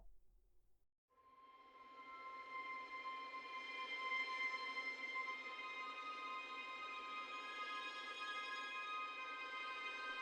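Spitfire Albion V strings playing Gypsy Harmonics: a faint, thin harmonic texture swells in after a second of silence and holds as a shimmering high chord, gradually thickening.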